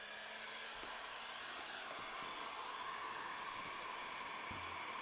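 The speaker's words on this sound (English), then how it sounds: "Heat gunning the day away." A heat gun runs in a workshop while shaping a leather Halloween mask, giving a steady, even blowing hiss with a faint motor whine, continuous and moderately close.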